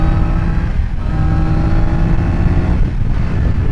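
A Triumph Daytona 660 sport bike accelerating hard on the road, a loud, steady engine roar heard close up from the rider's position with wind noise, no talking.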